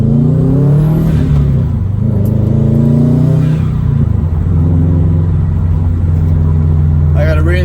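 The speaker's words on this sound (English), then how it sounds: "We're gonna do a launch to see how she performs." A car engine revving for a launch-control start, a loud deep rumble with rising and falling pitch sweeps that drops back to a steady idle, while a person talks over it.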